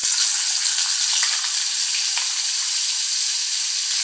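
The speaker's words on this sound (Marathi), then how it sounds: "आता आपण हा वाटलेला मसाला ह्यात फ्राय करून घेऊ." Ground masala paste hits hot oil with bay leaf and cinnamon in a pan for chhole, giving a loud, even, unbroken hiss of frying with only tiny crackles, close up and without speech.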